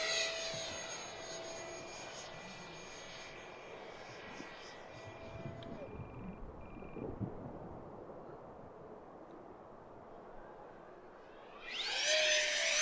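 A Habu SS 70mm EDF RC jet on a 6S battery passes with a steady high ducted-fan whine, fading off into the distance midway and then roaring back in close and loud at the end.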